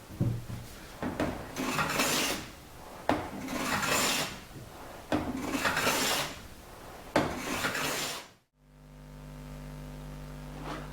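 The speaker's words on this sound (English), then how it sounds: "I'm going to make it even straighter using my jointer plane" A jointer plane straightens a thin wooden side for a Spanish guitar, making four long rasping strokes with brief pauses between, close and distinct, before falling silent into a low steady hum.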